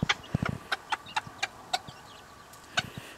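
Backyard chickens cluck in short, scattered bursts, several sharp calls spaced irregularly over a quiet background, close by and with no talk.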